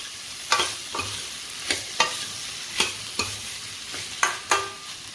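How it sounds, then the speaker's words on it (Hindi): Raw mango pieces roast with spices in a pan, a soft sizzle under a series of sharp, evenly spaced scraping strokes of a spoon against the pan, close and clear with no talking. "अब हम कैरी को ढककर 5 मिनट के लिए इसी तरह से भुनने देंगे।"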